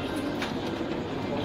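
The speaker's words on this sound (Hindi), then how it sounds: "ये देखो कबूतर देखो भाई, ये सब कबूतर अभी अवेलेबल है शकील भाई के पास" Pigeons coo at a busy Mumbai pigeon market, their soft calls blending into a dense, steady wash of market noise with indistinct chatter.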